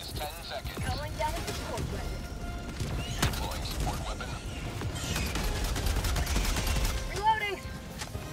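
A sentry turret in Helldivers 2 fires rapid bursts of automatic gunfire mixed with mechanical clanks and creaks, loud and continuous across the scene, with faint voices underneath.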